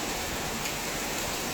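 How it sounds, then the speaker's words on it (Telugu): Heavy rain pours down at night in Hyderabad, a loud dense hiss of drops striking surfaces that holds steady and unbroken, with no talk over it. "చూసారా ఎలా పడుతుందో."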